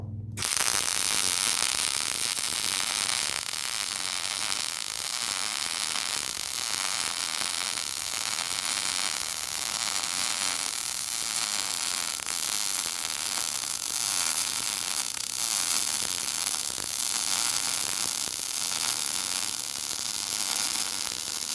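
Steady, loud crackling buzz of welding tacks being laid on a Cadillac lower A-arm mount, a continuous close sizzle with faint rhythmic pulsing and no talk.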